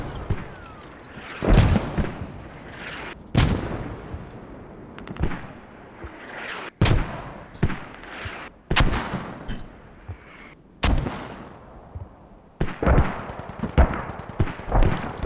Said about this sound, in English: they're throwing mortars over there to try to kill him